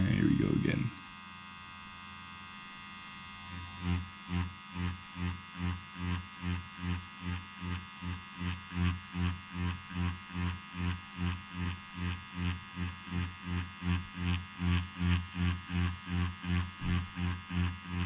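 A Dragonhawk Mast Fold Pro tattoo machine, its needle just readjusted, runs with a steady close electric hum. The buzz pulses in an even, rapid rhythm and continues alone after a brief burst of noise at the start.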